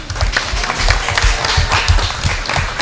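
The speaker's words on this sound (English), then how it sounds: "Parents, if we can get the team a nice big round of applause." Parents give a softball team a round of applause at a gathering at Z Pizza & Tap Room, a dense, loud, continuous patter of many clapping hands lasting the whole moment.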